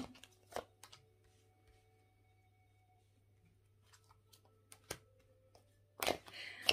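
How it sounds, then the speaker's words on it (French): Tarot cards laid out one by one on a table, a few faint isolated slaps and flicks spread over a quiet background with a low steady hum, a busier shuffle of card sounds at the end. "Je dispose des cartes et je vous dis"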